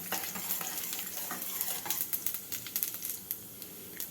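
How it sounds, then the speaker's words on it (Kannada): Mustard seeds, chana dal and urad dal fry in hot oil with a soft, steady sizzle, punctuated by faint crackles and pops that grow more distinct toward the end. "ಈಗ ಇದಕ್ಕೆ 1 ಚಮಚ ಸಾಸಿವೆ, 1 ಚಮಚ ಕಡಲೆಬೇಳೆ ಮತ್ತು 1 ಚಮಚ ಉದ್ದಿನಬೇಳೆ ಹಾಕ್ತಾಯಿದ್ದೀನಿ"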